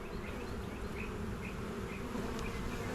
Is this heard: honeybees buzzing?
yes